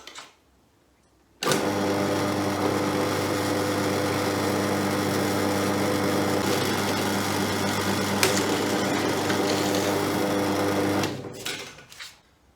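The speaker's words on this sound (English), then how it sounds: "The final procedure on these brackets is to drill a 6mm hole through here" A drill boring a 6mm hole through a metal fishing seat box bracket, a steady high whirring motor drone that starts abruptly, runs loud and even for about ten seconds, then winds down.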